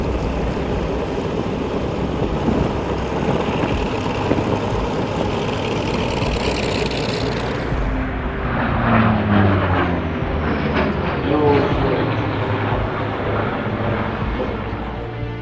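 An unusual air show airplane's engine drones steadily and loudly throughout, a continuous propeller-like roar that shifts in tone partway through as the aircraft moves.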